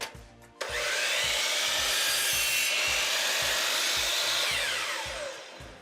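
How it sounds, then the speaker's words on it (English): A saw cuts through plywood boards at a 45-degree angle for a jewelry cabinet, producing a loud, continuous rasping cut over a steady rhythmic thump underneath, rising sharply at the start and tapering off near the end. "Gotta cut a few more boards."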